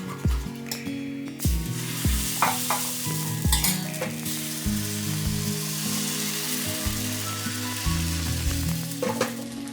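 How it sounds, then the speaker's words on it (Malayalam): Wheat-flour palappam batter sizzles in a palappam pan on a stove, with repeated stirring and scraping clicks and bumps over a continuous close frying hiss. "നമുക്കൊന്ന് പാലപ്പം ചുടാം"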